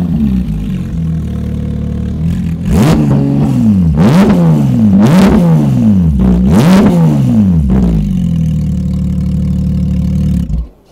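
Straight-piped Porsche 911 GT3 of the 992 generation, its engine idling close by, then blipped in four sharp rising revs that each hit a 4,000 RPM limiter and fall back, ending in a steady idle that cuts off.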